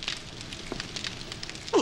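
Crackling campfire in the survival game 7 Days to Die, a soft steady burning hiss with faint pops, quiet and close, with a brief louder clunk at the very end.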